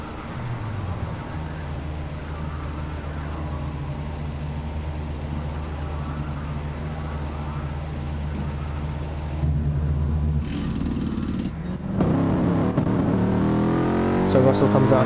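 Race cars in Gran Turismo Sport, during a DTM league round at Brands Hatch, roll through the pits with a steady engine drone that gives way to sharper revving and acceleration near the end, under continuous commentary.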